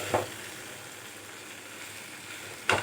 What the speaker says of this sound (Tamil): இதையெல்லாம் நல்லா ஒரு ரெண்டு நிமிஷம் வதங்கணும்